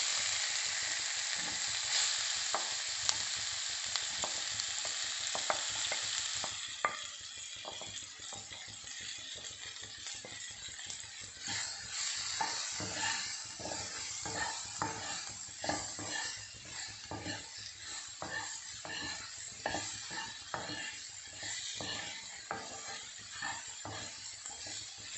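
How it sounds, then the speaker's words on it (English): Raw mango pieces frying in a pan with masalas, a continuous crackling sizzle with frequent small clicks and scrapes from stirring, steady and close throughout, no one speaking. "We'll fry this mango with these masalas for just 2 to 3 minutes."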